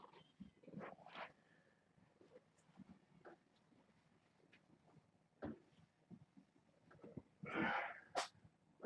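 A light-colored kitten gives a small sneeze, with a louder sharp burst near the end, amid quiet room sounds, soft rustling and faint animal noises.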